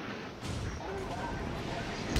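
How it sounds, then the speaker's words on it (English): An enemy naval gun salvo strikes an Omaha-class cruiser in World of Warships, heard as dense, continuous booming rumble with a heavier impact thump at the close. "That's the first enemy salvo of the game, and he got me."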